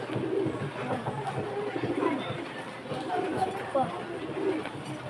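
Pigeons coo softly in low rolling phrases at a rooftop loft, repeated calls blending with steady background noise and occasional flutters.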